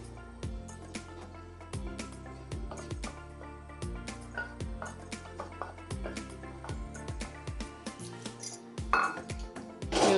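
Grated beetroot is sautéed in ghee, with a spoon repeatedly striking and scraping a metal pan in quick, ringing clinks, close and fairly quiet, with no voices.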